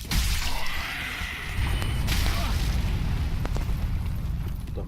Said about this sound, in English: The dragon will breathe fire, by the way, here.